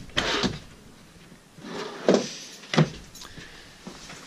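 Large storage drawers in a 2017 Jayco White Hawk 31RLKS travel trailer slide and thump shut, roughly four quiet opening-and-closing knocks spaced over a few seconds in a hushed interior.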